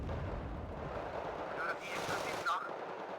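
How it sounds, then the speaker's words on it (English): Mortar fire in a combat video game comes through as faint, distant thumps and booms under a low rumbling battle backdrop, with a quiet voice in the mix. "Another mortar."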